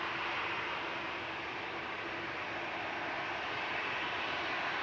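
Airbus A320 Classic shuttle airliner out of Heathrow, heard at Manchester Airport: a steady, loud broadband engine roar and rumble that holds evenly throughout with no talk.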